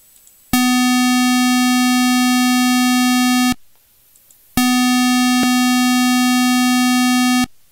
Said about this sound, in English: Now we'll take a listen to our square wave.